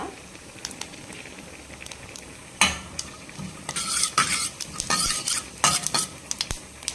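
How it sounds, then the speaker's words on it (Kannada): Cumin seeds fry in a little oil in a pan over a low gas flame. Faint sizzling is broken by scattered sharp crackles and pops that grow busier and louder in the second half, alongside a few light utensil scrapes. "ಇದಿಷ್ಟು ಜೀರಿಗೆ ಹಾಕಿದ್ದು ಸ್ವಲ್ಪ ಹುರಿಯೋ ತನಕ"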